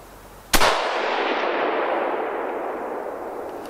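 A single loud rifle shot from a HEYM-made Ruger No. 1 hunting rifle cracks sharply outdoors, then rolls away in a long, fading echo over several seconds.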